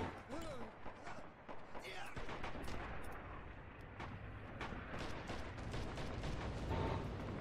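Artillery landing on a battlefield in Red Orchestra 2, a dense roar of distant blasts and gunfire rumbling continuously for several seconds, with voices talking over it.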